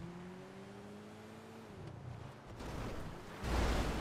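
A supercar engine in GTA Online hums at a steady, slowly rising pitch, then drops off into a rough, noisy roar that swells louder near the end, with no voices.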